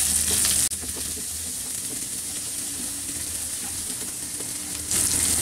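Chopped onion frying in hot oil with garlic and cashews, giving a loud, continuous sizzle and crackle close by with faint stirring underneath, sharpening briefly at the start and end.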